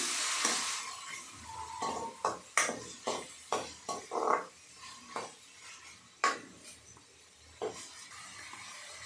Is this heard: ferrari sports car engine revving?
no